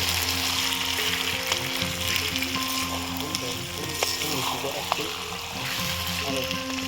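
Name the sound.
duck meat being fried slowly on low heat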